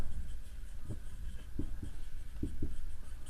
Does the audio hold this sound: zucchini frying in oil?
no